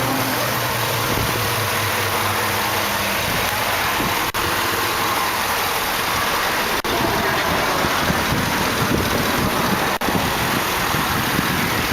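A 2008 Chevrolet Tahoe LTZ with the 5.3 liter Vortec V8 idles steadily, its engine close and even with a smooth low rumble and no voices over it.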